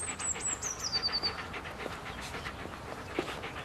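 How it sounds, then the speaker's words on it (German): A dog pants close by in a quick, even rhythm of short breaths that stays quiet and continuous throughout. "Der Hund bleibt draußen."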